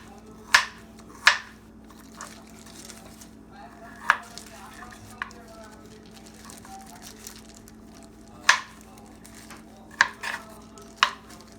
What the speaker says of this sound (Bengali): এভাবে আমি ক্যারটগুলোকে কেটে নেব।